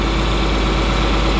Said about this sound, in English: So what we'll do is we'll shut the tractor off,